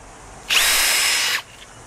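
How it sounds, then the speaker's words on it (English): A Makita cordless rivet gun sets a rivet: one loud, close, high-pitched mechanical whir of just under a second, with short quiet stretches before and after. "There you go, 3 popped rivets"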